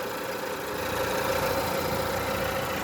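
A petrol engine in a Renault Clio 3 GT idles at a steady, even hum with a faint tonal whine, holding at constant loudness for the whole stretch with no voices.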